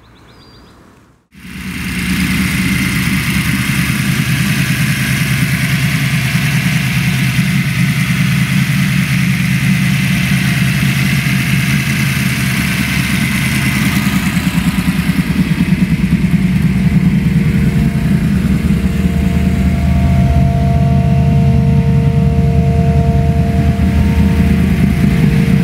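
A 1970 Dodge Dart Pro Street drag car's engine fires up after a brief pause, then holds a loud, steady rumbling idle close by for the rest of the run, with slight swells in revs and no talking.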